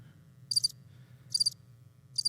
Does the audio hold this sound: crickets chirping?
yes